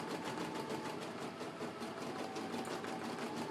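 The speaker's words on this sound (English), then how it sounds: "So I'm going to let the machine continue on its way, stitching out the doll's eyes." An embroidery machine stitching out a doll's eyes runs with a steady, fast mechanical chatter of needle strokes, even and continuous throughout at moderate distance, with no talking.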